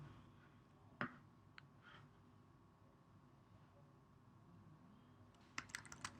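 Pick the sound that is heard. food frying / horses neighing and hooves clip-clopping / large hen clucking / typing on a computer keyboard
typing on a computer keyboard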